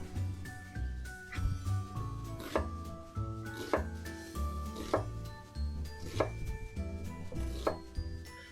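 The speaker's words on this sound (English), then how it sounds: "I just cut the onions into strips like I would for fajitas" A knife slicing onions into fajita-style strips on a cutting board, a quick run of crisp, close chopping taps at a fairly even rhythm, with no talking.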